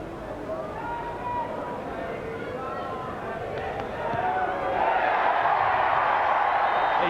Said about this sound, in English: The roar of the crowd tells you